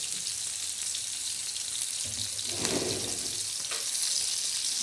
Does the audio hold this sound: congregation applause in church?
no